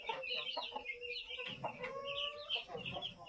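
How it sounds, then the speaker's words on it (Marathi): A free-range village hen sitting on eggs clucks and croaks while being held, giving a string of close, uneven calls with short pauses, and other fowl are faintly heard around her. "चांगली रुबाबदार कोंबडी आहे आपली आणि अंड्यावरती आहे मित्रांनो."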